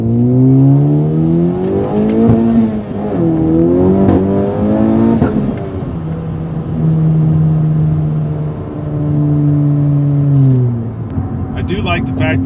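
A Honda Civic Type R with a stage 2 shifter upgrade accelerates hard through the gears. The loud engine note climbs in pitch, drops briefly at each shift, then rises again from inside the car.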